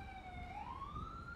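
In GTA 5 with the LSPDFR police mod, an ambulance siren wails in a single rising sweep, faint and distant over a low background rumble, with no speech.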